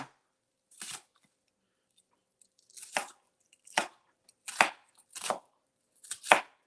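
A knife cuts onions into small slices on a cutting board, about six sharp, separate chops spaced unevenly at close range, with near silence between them.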